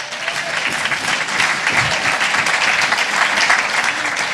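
A crowd claps steadily at a PATH Top Achievers award ceremony in Jamaica, a full, continuous round of applause holding at an even level from start to finish without speech.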